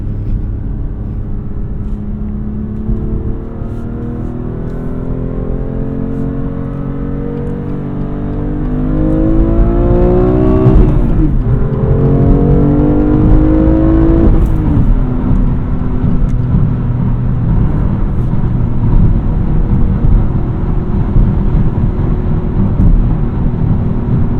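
A BMW car engine drones under load, then blips and revs sharply through a gear downshift, the pitch rising and falling before settling into a steady, loud cabin hum.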